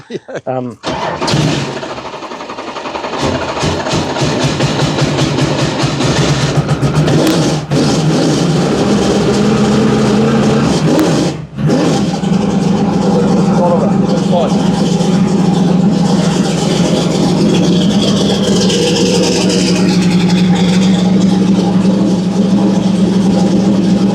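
A Ford 470 small-block V8 car engine catches at the start and then runs loud and steady, with a deep rumbling drone held for over twenty seconds and a brief dip near the middle.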